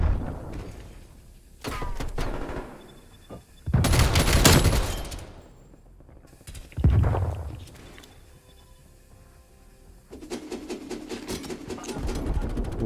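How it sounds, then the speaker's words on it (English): Burst-fire KSP-45 submachine gun shots in the video game Call of Duty Black Ops Cold War, several quick clusters of rapid shots separated by quieter gaps, with mechanical clatter and game effects between bursts. "KSP-45, it's actually a pretty good gun. It has good base damage. It is a burst shot."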